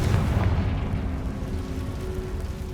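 A Confringo fire spell explodes in Hogwarts Legacy inside an underground catacomb, a dense low rumbling blast that sustains loudly through the whole moment with no talking.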